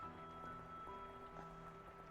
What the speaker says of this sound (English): There's no end to this rain, is there?